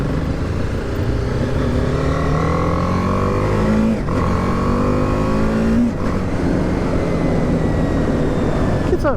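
A BMW G310R motorcycle with a roughly 310 cc single-cylinder engine revs and pulls through the gears while riding, its loud, steady drone rising in pitch with brief dips at shifts, alone without talk.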